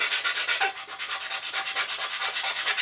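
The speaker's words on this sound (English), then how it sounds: "using a fine sanding stick, I'm just going to sand those in" A fine sanding stick rubs back and forth on a 1/48 Eduard MiG-29 plastic model kit, close and steady strokes in a quick regular rhythm of hissy scrapes.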